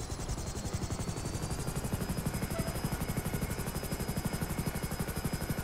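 A video-game helicopter's rotor thumps in a steady, rapid rhythm with a whining engine tone, sustained and fairly close throughout.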